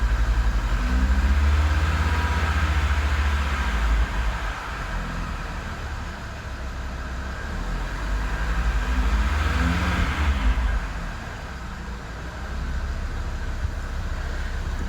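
A 2022-or-later Audi RS3 8Y engine runs steadily with a low rumble, rising slightly in two gentle swells of revs before settling back to idle.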